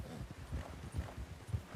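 Horse hooves clip-clop in a steady walking rhythm through snow in Red Dead Redemption 2, soft, muffled thuds repeating about twice a second at a low, distant level.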